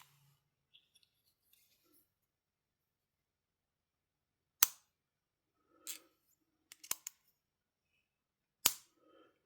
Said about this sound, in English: you click it, and then you push the clip to close it